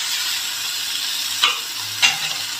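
Tomatoes stirred into meat frying in a pan, with a steady hiss of sizzling and two brief scraping stirs of a spoon, close and clear, with no talk.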